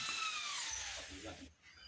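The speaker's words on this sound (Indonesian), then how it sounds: "Bor beton dulu ya utamakan" A power drill boring into concrete while installing a sliding door, with a high, grinding whine that winds down and stops near the end.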